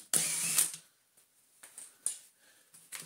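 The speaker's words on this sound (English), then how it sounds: "We can leave everything else to the purposes of this motor refurbishment guide and undo these four screws." Four screws are backed out of an Electrolux motor housing during a refurbishment, heard as a loud rasping burst followed by sparse, quiet ratcheting clicks and taps with pauses between them.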